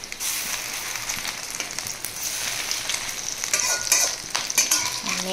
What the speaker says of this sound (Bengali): এখানে একটুখানি মাছের ডিম ছিল, সেটা ভাজতে দিয়ে দিয়েছি।